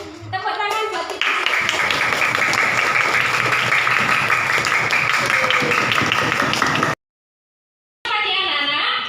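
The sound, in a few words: children applauding in classroom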